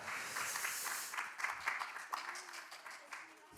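An audience at a Korean independent film premiere screening on childhood diabetes claps briefly. The dense applause quickly thins to scattered claps, with murmuring voices underneath.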